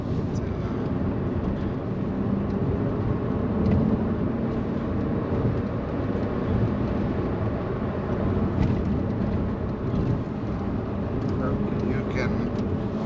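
A Silence S04 nanocar, an electric quadricycle between motorbike and car, drives through traffic at the Geneva Motor Show, with a steady low road and motor rumble continuing throughout while people talk inside.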